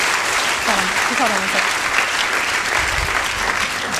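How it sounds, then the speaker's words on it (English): Audience members clap together in a full, even round of applause for a volunteer. Someone says a few words over the clapping. "Everybody give her a round of applause."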